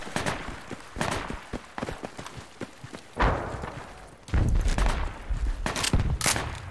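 Gunfire in the tactical shooter game Project Reality, sharp single and clustered rifle shots at irregular intervals, some nearby and loud, with heavier bursts and rumbling after the midpoint.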